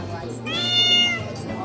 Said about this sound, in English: Hello, noisy kitty